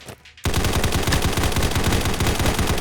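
Rapid automatic gunfire in the shooter game Combat Master, a loud, close, continuous burst of shots that starts abruptly after a short quiet lead-in.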